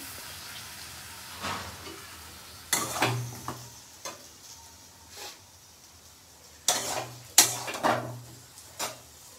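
Food sautéed with spices in a pan, a faint background sizzle broken by scattered, distinct scraping and clattering stirring strokes, close and fairly quiet.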